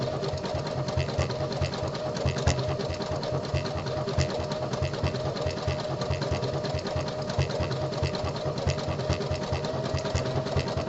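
A home sewing machine stitches the body panel of a boxer brief, a fast, even mechanical whirring with a rapid needle rhythm running continuously and close, with no talk.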